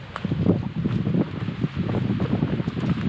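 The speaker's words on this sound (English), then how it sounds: "wind's picking up a little bit now" Strong, chilly wind gusts of up to 40 miles an hour on a hiking trail, a loud rushing roar buffeting the microphone in uneven surges throughout.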